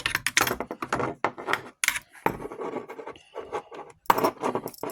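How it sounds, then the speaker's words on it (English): Bolt taken out of a Zastava M70 AK rifle, a close run of metallic clicks, slides and rubbing handling noises in irregular bursts with short gaps. "let's take the bolt back out here"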